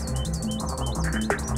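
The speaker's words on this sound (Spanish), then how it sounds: "Disfrutaremos con los cantos de estos ejemplares de fringílidos que atraerán hasta nuestra postura a verdones y jilgueros" Finches such as greenfinches and goldfinches sing in a lively sequence of twittering chirps and trills, close and clear. A steady pulsing tone runs underneath during a bird-trapping session at Matalascañas.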